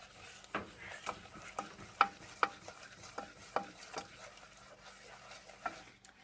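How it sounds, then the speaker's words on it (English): A spoon stirs a sugar mixture in a pot on the stove for sea foam candy, giving a series of distinct scraping, clinking strokes at an irregular pace, quiet overall against a soft low background. "I'm going to stir this until it starts to boil"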